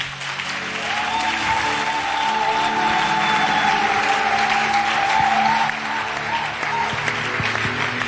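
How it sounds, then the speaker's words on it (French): A church congregation at a French-speaking worship service breaks into sustained applause and cheering that holds steady for several seconds before tapering, with a voice briefly audible over the crowd. "Que quelqu'un acclame le Seigneur."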